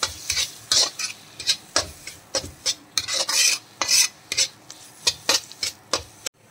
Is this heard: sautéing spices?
yes